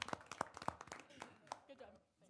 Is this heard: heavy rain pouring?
no